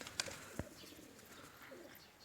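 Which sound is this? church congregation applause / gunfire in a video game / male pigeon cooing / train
male pigeon cooing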